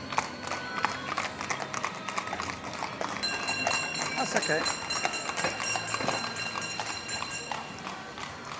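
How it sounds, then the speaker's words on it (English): Horses pulling illuminated carriages along a busy resort street at night, with hoof clip-clops passing steadily at mid distance beneath crowd noise, music and a brief spoken remark. "maybe you can hear all the horses and carriages going past"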